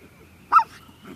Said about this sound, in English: Oh, what a great dog.